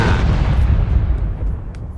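A vehicle blown up with C4 in the video game PUBG: a loud, deep boom that rolls out in a heavy rumble and fades over about two seconds.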